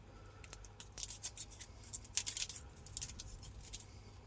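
Sealed parcel being cut and pulled open, with soft scissor-like snips, crinkles and scratchy rustles in quick irregular bursts, close and quiet, no talking.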